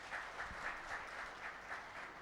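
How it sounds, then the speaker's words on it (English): A conference audience claps faintly and steadily for a procurement panel on carbon emissions, the sound thin and at a distance in a large hall. "please give them a huge round of applause"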